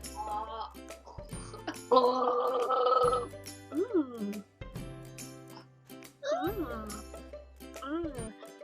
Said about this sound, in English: I'll try and gargle it like the real wine taster.